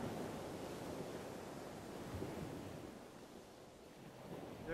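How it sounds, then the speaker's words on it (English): Ocean surf rolling near the Long Beach breakwater, a steady broadband wash of waves with some wind rumble and no voices, holding an even, fairly close level throughout. "In Long Beach, we have a breakwater that blocks the waves from coming to shore."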